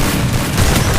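An explosion in a mobile shooter video game: a loud, deep, rumbling boom that fills the whole moment, broad and roaring with no clear voice on top.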